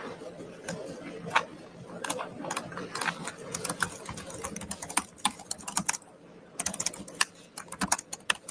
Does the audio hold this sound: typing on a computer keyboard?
yes